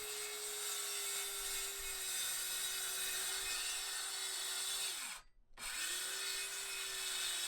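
A circular saw rips steadily through veneered wood on a mid-century drinks cabinet, a loud continuous whine and rasp that briefly drops out and spins back up before carrying on.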